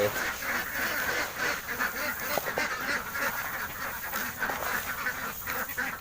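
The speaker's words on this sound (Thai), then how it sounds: "น้องเป็ดเรียกร้องว่าอยากจะออกมากินอาหารแล้วครับ" Pet ducks in a backyard pen calling to be let out to eat, a busy run of overlapping quacks and honks repeating throughout, close and moderately loud, with some talking mixed in.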